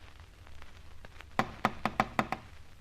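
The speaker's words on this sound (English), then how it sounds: "We've rapped on the door dozens of times." Knuckles rap on a door in a radio drama: after faint background noise, a crisp run of six evenly spaced knocks sounds close and clear.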